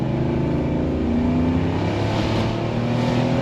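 A Range Rover P38A V8 engine accelerating in sport mode drones with a steady, loud, rising rumble, heard close from the cabin on a narrow lane.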